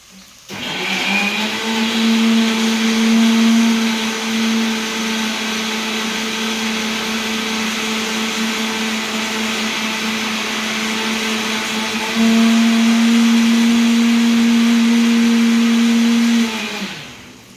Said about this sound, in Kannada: ಇದನ್ನು ನಾವು ಮಿಕ್ಸಿಯಲ್ಲಿ ರುಬ್ಕೊಳ್ಳೋಣ.